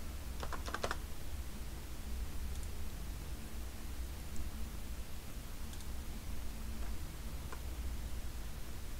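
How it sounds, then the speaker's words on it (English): A password being typed on a computer keyboard, with a quick burst of clicky keystrokes near the start and a few scattered taps later, fairly faint over a constant low hum and hiss, no voices. "And I'll type in my password."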